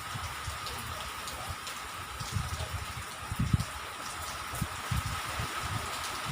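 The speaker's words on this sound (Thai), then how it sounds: "เสียงฝนจากพี่น้องจ้า" Steady rain patters down in a dense, continuous hiss, with heavier drops thudding irregularly on a surface nearby. No voices.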